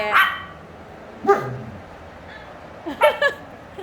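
A dog gives three short, fairly close barks spaced about a second and a half apart, with faint background noise and an occasional voice between them.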